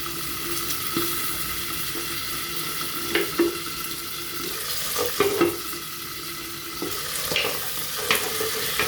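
Fenugreek, mustard seeds, coriander seeds and peanuts fry in hot oil with a continuous crackling sizzle, broken by occasional clicks and scrapes of a spoon against the pan.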